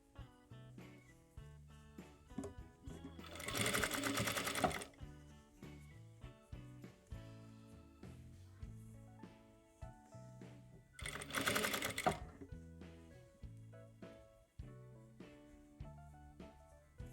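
A sewing machine stitches a soft bunny toy's foot piece into its leg in two fast, loud whirring bursts, with slow single-stitch clicks and fabric handling between them, close up and without talk.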